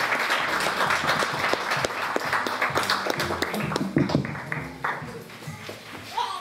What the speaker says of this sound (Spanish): don Anacleto Sicán, por lo que les pido un fuerte aplauso para el señor alcalde auxiliar.